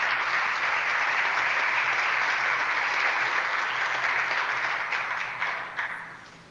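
Applause from a live show audience, an even wash of many hands clapping that holds steady, then thins and fades out near the end.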